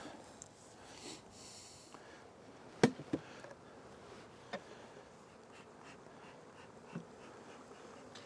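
Faint, steady buzzing of honey bees around a hive in the background, with a few soft knocks and clicks scattered throughout, fairly quiet overall.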